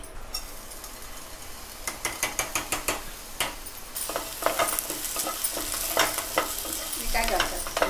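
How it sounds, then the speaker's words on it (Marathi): Rice dry roasting in a kadhai, stirred with quick rhythmic scraping strokes that begin as separate clicks and then settle into continuous rattling and rustling of grains against the metal pan, close and clear. "आता तांदूळ चांगले सुके कलर बदलेपर्यंत आपण भाजून घ्यायचे"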